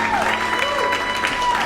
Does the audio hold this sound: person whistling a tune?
no